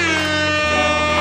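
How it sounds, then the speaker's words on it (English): A loud, blaring air horn blast sounds continuously, its pitch dropping partway through, filling the whole short clip. "You have your air horn,"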